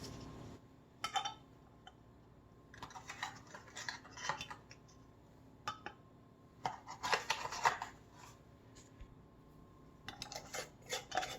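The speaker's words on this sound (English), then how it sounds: "we're going to seal the jars the same exact way" Metal lids and rings clink against glass canning jars of seasoned pork and chicken with black beans, in scattered bursts of sharp taps and rattles, close by with no talking.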